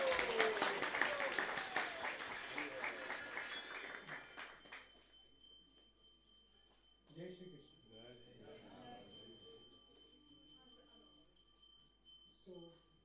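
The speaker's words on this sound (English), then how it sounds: "So please, a big round of applause for Sri Mohit Yadav." Audience applause in a temple hall during a Narasimha Caturdasi seminar, dense clapping for about four seconds that fades out, followed by someone speaking over quiet room tone.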